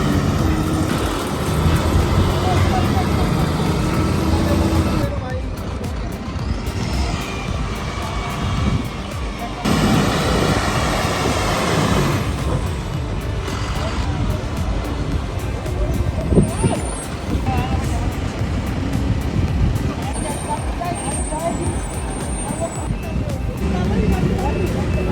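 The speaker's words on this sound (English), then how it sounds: "Baumann Heavy Transport rolling through Halle with a massive 400-ton power transformer on board" A Baumann Heavy Transport rig hauls a 400-ton power transformer through Halle, its diesel engine droning steadily with air-brake hisses and passing traffic around it, while a voice speaks over much of the scene.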